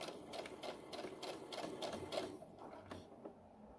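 Home sewing machine back stitching a seam on pajama shorts, a soft steady mechanical whir with faint rhythmic stitch ticks, fairly quiet and close, no talk.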